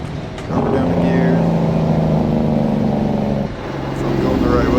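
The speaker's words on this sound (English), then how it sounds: "Looks like I need to get over, drop it down the gear." Mack truck engine in American Truck Simulator dropping a gear while hauling grain, a steady low diesel drone that dips briefly and then climbs again as revs change.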